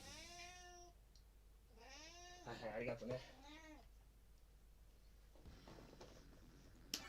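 A cat meows in the background of a King of Fighters 98 match stream, giving a couple of clear, drawn-out meows close together near the start, followed by quieter room sound and faint voices.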